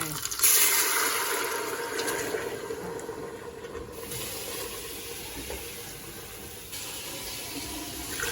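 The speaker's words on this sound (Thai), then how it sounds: "เติมน้ำกันลงไป" Water pouring into a pot of pork leg being stewed, a continuous rushing splash and gurgle that starts abruptly and slowly settles, close and fairly loud throughout.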